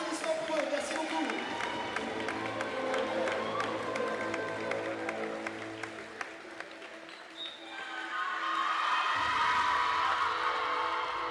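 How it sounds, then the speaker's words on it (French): Audience applause for the volleyball coaches at an indoor volleyball match between Evreux and Bordeaux, a steady crowd roar of clapping and cheering that dips briefly then swells again, loud and continuous. "Applaudissements pour eux, merci beaucoup."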